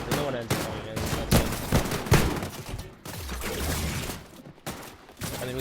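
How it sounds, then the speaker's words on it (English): Rapid automatic gunfire in a competitive shooter video game, repeated close bursts of shots with brief gaps, loud and punchy throughout. "I'm just trying to shoot everyone I see, get them off our bunker."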